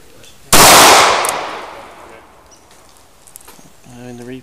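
A single loud gunshot cracks at a shooting range and its echo decays over about a second and a half, followed by quieter rustling and a brief voice near the end.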